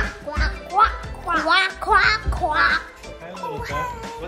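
A voice imitates a duck, quacking repeatedly in a bouncy, sing-song rhythm, close and fairly loud, with a few short pauses between quacks.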